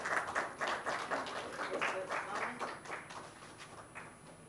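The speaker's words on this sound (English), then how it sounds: "A round of applause, please." Applause from a summit audience on water stress as a speaker is called up, moderate clapping with scattered distinct claps that thins out and fades toward the end, with no speech over it.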